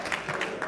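A church congregation claps during a sermon, a dense, loud burst of applause from many hands, steady throughout the brief moment with no talk over it.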